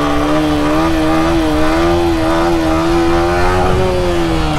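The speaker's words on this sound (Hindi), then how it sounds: "बड़े पागलों की तरह बाइक चला रहा है" A motorcycle ridden hard on the road revs loudly and steadily from start to finish, its engine note rising and falling slightly, close by with no talking.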